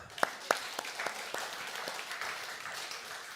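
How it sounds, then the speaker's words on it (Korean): Applause from a Thanksgiving church congregation for the children, starting with a few sharp claps and settling into a steady, soft patter of many hands at a moderate distance. "우리 아이들에게 우리 박수 한번 쳐줍시다."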